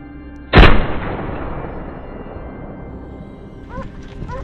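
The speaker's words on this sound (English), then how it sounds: "The wild boar is completely taken down with just 2 gunshots." A single loud, sharp gunshot at a wild boar hunt rings out and echoes into a long decaying rumble, followed by faint bird chirps.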